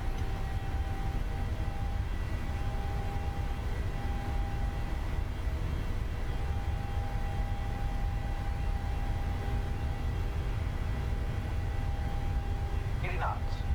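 PMDG 737-800 jet engines at takeoff power in MSFS 2020, a constant loud roar with steady whining tones, continuous from start to finish, with a brief voice near the end.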